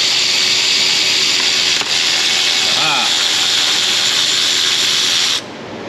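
An electric ratchet removing the oil pan drain plug on a Chrysler Pentastar 3.6 engine with a hole in the block: a loud, continuous whirring buzz close to the microphone that runs for about five seconds, then cuts off.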